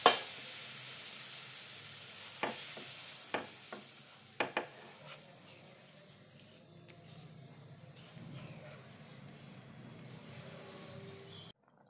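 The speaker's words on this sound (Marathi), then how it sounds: "भाजीला उकळी आलेली आहे" Drumstick (moringa pod) curry simmers in a pan, giving a steady, soft bubbling hiss throughout, with a few sharp utensil clicks near the start and no talking.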